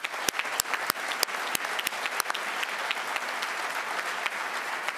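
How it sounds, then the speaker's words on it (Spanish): A room of colleagues at a tax seminar applauding, sharp separate claps at first that merge into steady moderate clapping for several seconds, no talk. "les propongo un aplauso para todos los colegas"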